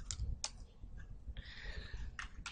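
Computer keyboard typing on a Windows 8 PC, a few scattered quick key clicks and short bursts close by, alone with no voices.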